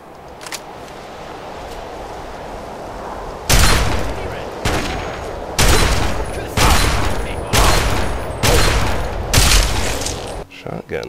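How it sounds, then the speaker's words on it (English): Shotgun blasts in Fallout 3's Operation Anchorage, seven or eight loud, close booming shots spaced roughly a second apart after a quieter stretch of ambient game noise, with no talk over them. "Shotgun is not cutting it against the homes here."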